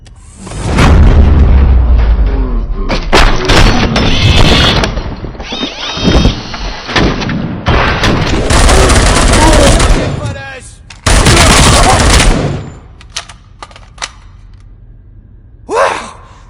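Heavy gunfire and booming explosions in a RoboCop video game, loud sustained bursts of shooting that stop and start, with short gasps and grunts between them.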